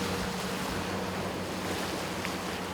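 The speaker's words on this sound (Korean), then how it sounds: "파도가 꽤 거친데요." Rough sea waves along a rocky coast where a free diver gathers seaweed, heard as a steady, dense wash of surf mixed with wind noise, continuous and fairly close, with no voices.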